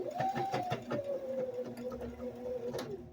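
A sewing machine stitches through several layers of hemp cloth for a fitted diaper, with a steady motor whine and a rapid run of needle clicks that slows briefly before continuing.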